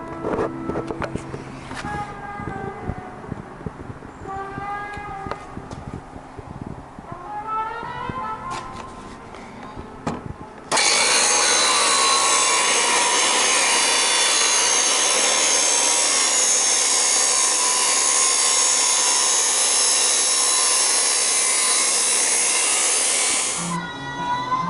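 Power grinding on the edge of a metal part for a 1986 Chevy K10 overdrive install, a loud steady broadband whine running continuously for about fourteen seconds after a stretch of quieter shop noise and light tool handling.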